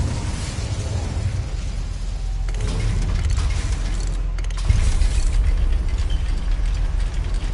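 A goblin mine machine in Hogwarts Legacy runs with a dense, continuous mechanical rumble and grinding clank, loud and steady throughout, with a heavier burst of churning near the middle.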